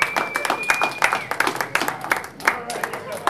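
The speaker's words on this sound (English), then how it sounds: "Let's get a round of applause for our new recruits." A live pirate show audience claps for new junior pirate recruits, with brisk, close applause of several hands mixed with chatter and voices.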